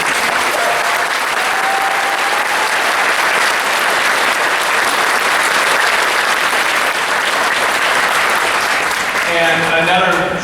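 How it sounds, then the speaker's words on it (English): A school band spring concert audience claps loudly and steadily for the high school orchestra director, a thick wash of applause that carries on the whole time, with faint tones near the end. "So if you guys can clap loud enough, he can hear you."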